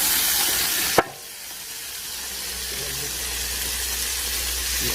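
Lamb meat dropped into a hot plov pot gives a sudden loud hit, then a steady hiss of sizzling fat that carries on, close and unbroken, with no talking.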